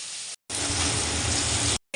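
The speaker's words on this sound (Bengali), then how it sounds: "চলো মাছটা ভেজে নিই" Fish fries in a pan, giving a steady, fairly loud broadband sizzle broken by two brief silent gaps.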